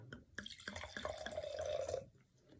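Wine trickles into a tasting glass in a short, close pour of about a second, with a rising liquid tone and a few drips before and after.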